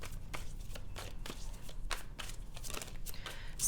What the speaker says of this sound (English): I feel like I've been shuffling for like a while.